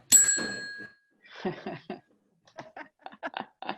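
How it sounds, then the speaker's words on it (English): A Moroccan water seller's bell, a single bright ring at the start that decays quickly, followed by sparse clicks and clinks in a quiet setting. "He can ring his bell"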